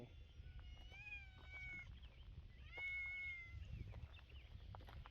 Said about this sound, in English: Cat wants to be in the video.